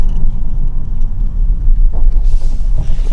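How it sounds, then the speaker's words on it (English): A 2025 Toyota Camry hybrid with an electrical CVT drives with its engine revving somewhat high, giving a loud, steady low rumble from inside the cabin with faint road noise and no talk. "So the engine does rev a little high."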